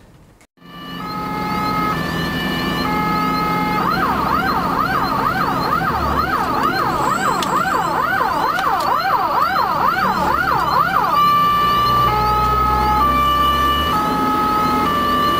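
Emergency vehicle on an alarm run in traffic, its siren loud and close, shifting from a steady two-tone wail to a rapid yelping warble and back, over the rumble of road noise with no talk.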